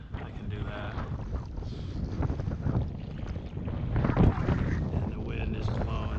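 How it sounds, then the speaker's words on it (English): Strong wind gusts over open water, roaring and buffeting close to the microphone with a surge midway, while a voice talks faintly underneath. "And the wind is blowing so hard."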